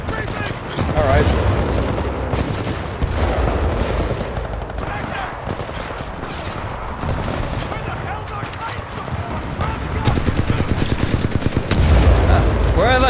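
Future-style guns in the first-person shooter Titanfall 2 fire in rapid automatic bursts with booming shots, loud and dense throughout, ending in a fast rattling volley.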